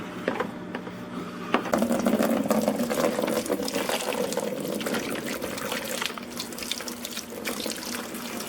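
Water gushes steadily from a hose into a fish tank in a home fish room, a continuous close rushing and splashing that holds at an even level throughout with no voices.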